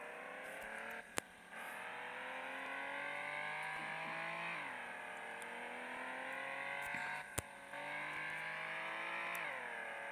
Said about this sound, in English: This game has simulation mode, driving cars in all over the city.